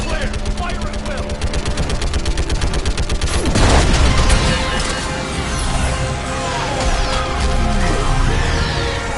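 Rapid automatic gunfire rattles through a Mass Effect Legendary Edition battle, loud and continuous, with a heavy crash or explosion midway and ongoing combat noise around it.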